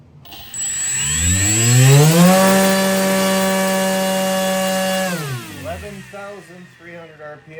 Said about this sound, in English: We'll begin testing the 3536 by 1450 with the 10-inch 3-bladed 3D printed fixed